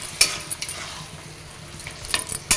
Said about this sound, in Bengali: এবার এটা পুরো কষতে হবে যতক্ষণ না শাকটা শুকাচ্ছে পুরো